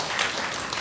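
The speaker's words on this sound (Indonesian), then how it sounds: "kasih tepuk tangan buat semua yang sudah melayani pada pagi hari ini" A church congregation at a Sunday service applauds its volunteers, with dense, steady clapping from many hands filling the short moment.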